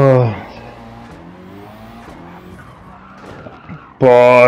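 Race car in the video game Gran Turismo 7 rallycross at Circuit de Barcelona-Catalunya, braking hard and skidding, with a loud engine burst at the start, a quieter stretch of tire scrub and engine, then a sudden loud roar near the end.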